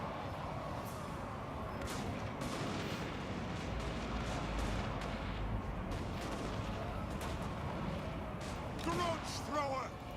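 Artillery firing in the video game Total War: Warhammer, a dense rumbling battle din with repeated booms and gunfire cracks, steady and mid-distance, with a voice talking over it.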